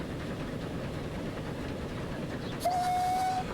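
A steam-era Great Western train in the Transport Fever 2 game sounds a single steady whistle blast of under a second near the end, over a continuous loud rumbling of rolling rail traffic.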